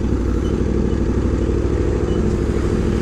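Steady, loud Aprilia RSV4 RR motorcycle exhaust rumble through a Resfit Sugomi aftermarket exhaust, running continuously, a deep throaty engine drone with no talking.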